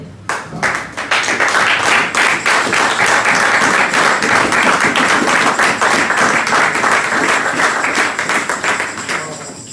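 A church congregation bursting into loud, sustained applause during a service, dense clapping from many hands filling the room with a few cheers, steady throughout.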